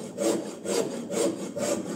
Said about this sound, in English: right now, I will use the rasp first